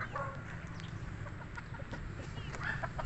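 Gamefowl rooster of the sweater line, kept for breeding, clucking in short bursts over steady low farmyard background noise.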